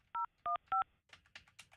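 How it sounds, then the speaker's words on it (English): A telephone keypad dials three crisp, evenly spaced beeping tones, followed by faint clicks and rustling noise, with no talking. "All right, calling Julian."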